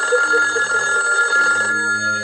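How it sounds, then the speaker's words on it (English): A telephone rings with a steady, trilling electronic bell tone that carries on for a couple of seconds, loud and close, with no one speaking over it. "Someone answer my phone."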